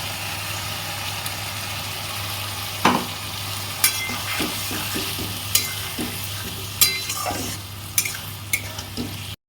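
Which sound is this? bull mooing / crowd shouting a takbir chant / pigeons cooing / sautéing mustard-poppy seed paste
sautéing mustard-poppy seed paste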